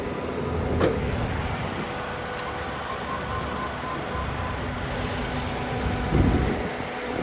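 A 2010 Toyota Vios 1.5E with automatic transmission idles in its engine bay, giving a steady, smooth, close hum with a couple of brief clunks along the way and no talking.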